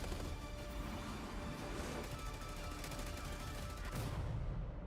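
Dense, continuous gunfire from the Call of Duty video game, a loud, steady wall of rapid shots and blasts that barely lets up, with no talking.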